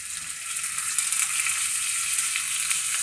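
Crushed garlic, curry leaves and a pinch of asafoetida fry in hot oil for a dal tadka, giving a continuous bright, crackling sizzle that holds close and even for a few seconds, with no voices.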